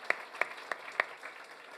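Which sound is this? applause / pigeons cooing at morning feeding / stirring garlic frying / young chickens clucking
applause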